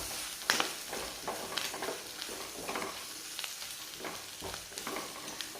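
Chili powder is stirred into a sardine curry masala in a pan, a soft, low sizzle with scattered scraping and tapping stir sounds, fairly quiet throughout.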